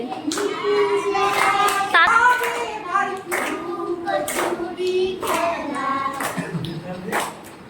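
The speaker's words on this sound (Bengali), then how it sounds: "হাততালি" Children at a school workshop in Bongaon clap their hands in a steady rhythm while chanting a rhyme together, the claps crisp and close between the sung phrases.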